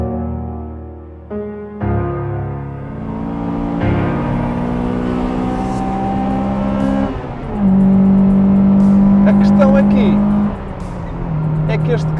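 A front-wheel-drive Honda Integra Type-R engine pulls hard, its steady drone climbing in pitch through several rising sweeps with brief shifts between them. The loud, close engine noise runs for the whole stretch, and voices are heard at times.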